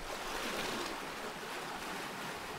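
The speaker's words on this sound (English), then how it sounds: "He rides the big waves." Ocean waves wash in a soft, continuous rushing hiss, even and fairly faint as a storybook sound effect, with no voices.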